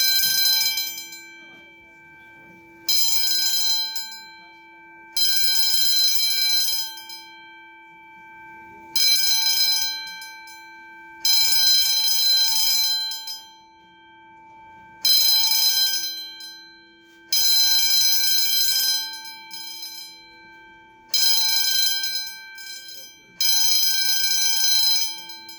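An Edwards fire alarm bell rings loudly at a flea market during a false alarm, in repeated bursts of about two seconds separated by short pauses, with faint voices between the rings.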